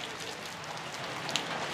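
Steady, dense rain pours down around a house during a cyclone storm, a constant close hiss with no voices.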